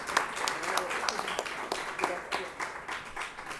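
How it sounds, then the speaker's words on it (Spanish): Audience applause for a speaker at a poetry tribute event, moderate scattered clapping heard at a distance, steady throughout with faint voices underneath. "Un aplauso para Margarita Bustos."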